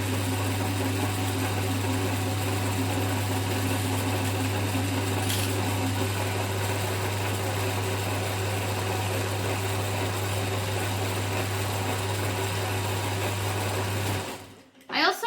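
A sewing machine runs a continuous stitch with its bobbin thread, a loud steady mechanical whir that holds almost unbroken and then stops abruptly near the end.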